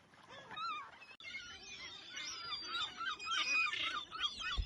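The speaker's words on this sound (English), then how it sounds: "Some swans come out of the" Swans honk repeatedly by the water at Southport, harsh nasal calls rising and falling over a steady outdoor background, with other bird calls mixed in.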